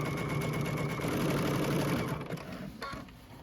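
A sewing machine stitches binding onto a quilt with a steady, fast mechanical whir at close range that fades and slows toward the end.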